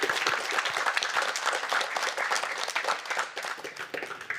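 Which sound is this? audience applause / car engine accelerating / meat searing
audience applause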